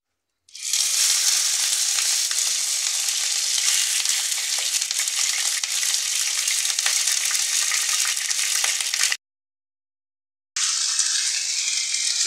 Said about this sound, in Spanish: Pues ahora ya le voy a echar la carne a la cazuela porque ya se calentó el aceite.